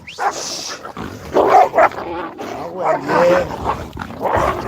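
Farm dogs fighting close by, with growls, yelps and barks in bursts through the clip, while people talk and shout over the noise.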